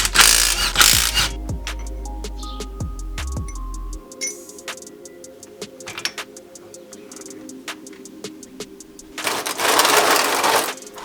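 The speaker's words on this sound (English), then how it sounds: "we have to remove those 4 bolts that are holding the center of the diff in" Bolts holding the center section of a vehicle differential are worked loose with a ratchet, giving rapid metallic clicking bursts, a low whirring tool at the start and scattered clanks, up close without talk.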